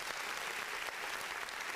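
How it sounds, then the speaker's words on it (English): Steady, dense applause from a crowd at a food truck festival event, continuous and fairly close, filling the whole moment without gaps or voices. "I just want to give her a round of applause real quick for a great event"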